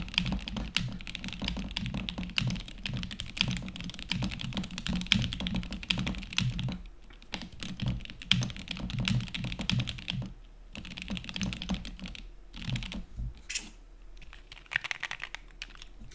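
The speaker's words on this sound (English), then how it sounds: "I can't plug it in, but I'll do typing noises." Fast, steady typing on an unplugged mechanical computer keyboard clatters close up with dense key clicks, easing off in short pauses near the end.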